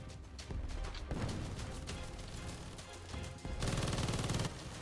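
Machine gun fire in the video game The Patriotic War, rapid bursts of gunshots that run almost continuously, with a louder, denser burst near the end and other gunfire crackling around it.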